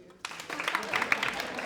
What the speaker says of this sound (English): keep clapping if you've made it past 3